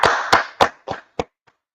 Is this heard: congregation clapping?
yes